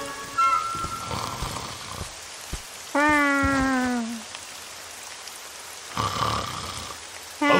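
Steady rain patters throughout, with a long descending animal cry in the middle and a few other brief sounds over the rainfall.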